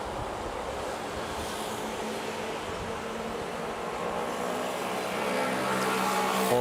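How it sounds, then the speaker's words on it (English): Airliners, including a China Southern A320 pushing back, taxi at Manila's NAIA airport, giving a steady, broad jet-engine roar that holds at a constant distance and swells slightly toward the end. "China Southern A320 pushing back"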